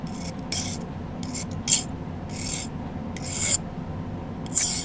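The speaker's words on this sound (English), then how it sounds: "Probably going to do the majority of it with the file here." A hand file rasps across a silver bracelet in several short, separate bursts, each a dry scraping stroke up close over a steady low hum, with brief silent gaps between them.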